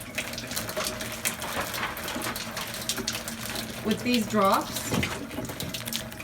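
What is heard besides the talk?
water running from a K8 water machine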